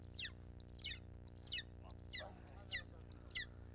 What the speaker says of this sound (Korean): 야생 검독수리는 소리를 내지 않지만 새끼 때 데리고 온 녀석은 삑삑거리는 소리를 낸다